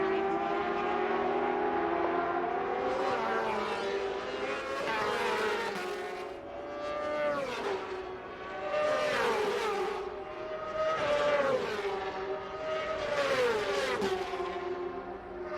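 Stock 1000 superbikes, a BMW among Hondas, race past at Road America with loud rising and falling engine whines in repeated passes, revving and shifting through gears at close range. A commentator's voice is faintly audible underneath.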